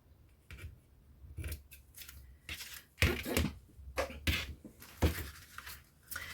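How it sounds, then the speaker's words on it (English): Scissors snip through lace for a handmade Easter card, several crisp close cuts in irregular bursts, fairly loud against a quiet room with no speech. "let me just cut off some lace there"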